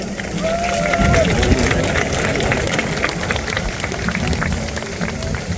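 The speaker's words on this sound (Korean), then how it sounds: "다시 한 번 큰 박수 부탁드립니다." A large crowd at a South Korean Marine Corps induction ceremony claps steadily in dense, continuous applause with a murmur of voices underneath. It holds at an even, fairly loud level throughout.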